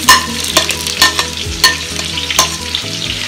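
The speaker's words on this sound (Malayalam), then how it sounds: "അപ്പം നമ്മൾ അരിഞ്ഞു വെച്ചിരിക്കുന്ന ചെറിയ സവാള, പച്ചമുളക്, ഇഞ്ചി ഇതൊന്ന് നമുക്ക് വഴറ്റിയെടുക്കാം" Chopped shallots, green chilli and ginger sautéing in hot oil for a tree-sorrel (bilimbi) curry, with a steady loud sizzle and repeated scraping stirs at an irregular rhythm, heard up close with no voices.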